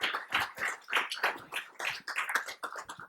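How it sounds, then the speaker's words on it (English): Audience applause at a lecture, a steady, fairly quiet patter of many hands clapping continuously without talk. "let us give her a big round of applause"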